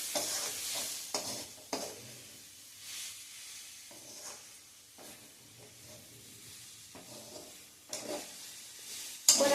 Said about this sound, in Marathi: हे आता हे छान असं नारळ पण त्यात परतून झालाय व्यवस्थित